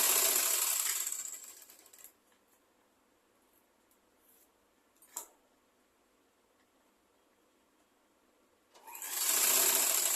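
A sewing machine stitches the side of an umbrella skirt in two loud whirring runs, one at the start and one at the end, with near silence and a faint click in between.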